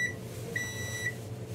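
Microwave oven beeping when finished: three short, high electronic beeps spaced about half a second apart over a low, steady room hum.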